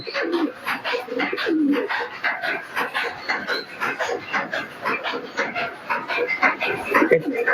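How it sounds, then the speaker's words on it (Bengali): Teddy pigeons coo close by in a rhythmic run of throaty, rolling calls that repeat steadily. "খুব সুন্দর কোয়ালিটির কবুতর"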